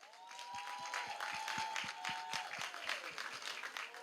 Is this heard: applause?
yes